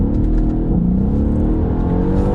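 A 700 bhp Mercedes E63 AMG engine roars loudly up close as the driver feathers the throttle, holding a dense, continuous rumbling growl with a slowly climbing pitch.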